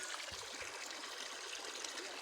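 Rainwater flows and falls in a steady, faint, continuous rushing wash, like a small stream trickling at a distance, with no talk.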